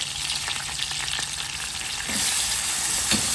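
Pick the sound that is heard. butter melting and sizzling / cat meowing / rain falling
butter melting and sizzling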